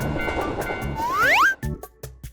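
A cartoon train approaches in a children's animation about a ghost train and a railway crossing. Rattling clatter builds to a bright rising whistle-like sweep, then cuts off into a few short sharp knocks.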